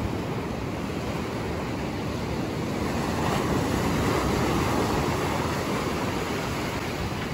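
Sea waves on a beach at night, a continuous broad wash of surf with wind, steady and fairly loud throughout with no talk.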